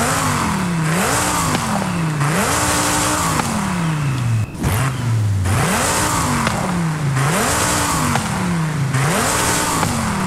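Car engine revving in the racing video game Forza Horizon 5, loud repeated rises in pitch through the gears with a short drop between runs, heard alone with no talk.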